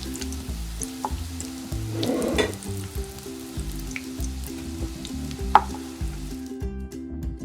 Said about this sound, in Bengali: মিডিয়াম থেকে কম আঁচ দিয়ে আমি এটা 4 মিনিটের মতন ভেজে নিলাম